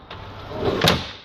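A short metallic slide as an RV's outdoor kitchen drawer glides open on full-extension metal glides, a smooth rolling rush ending in a faint click near the end.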